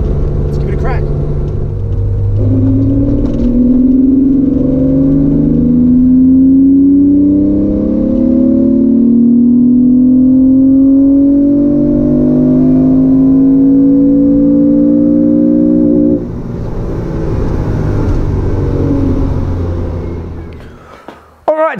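A Porsche 911 2.8 RSR fitted with a custom exhaust accelerates hard in third gear, its engine note climbing steadily for about fifteen seconds before lifting off into a lower, rougher drone, loud and close throughout.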